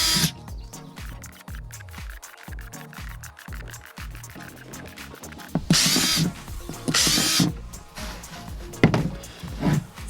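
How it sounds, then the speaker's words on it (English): A power drill bores holes into the bottom of a plastic container in short bursts, ratcheting and clicking between them, then louder whining spells as the bit works through the plastic. "Start off just by drilling a few holes into the bottom of the container."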